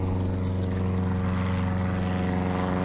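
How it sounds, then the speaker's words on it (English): An airplane passes overhead with a continuous low droning hum and broadband roar, steady and moderately distant throughout. "Hello, Mr. Plane."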